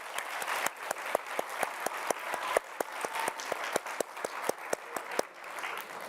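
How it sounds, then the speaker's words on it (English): Steady applause from a small group, quick irregular claps filling the whole stretch at moderate volume, with no voices over it. "We should give Mae an applause."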